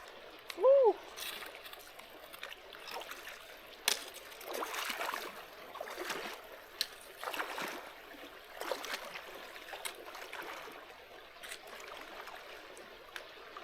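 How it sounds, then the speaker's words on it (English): Creek water rushes and splashes during a backcountry crossing of Beaver Dam Creek in Yellowstone's Thorofare, a continuous soft flow broken by irregular nearby sloshes and splashes. "Beaver Dam Creek. Looks like it should be chill, but definitely wet."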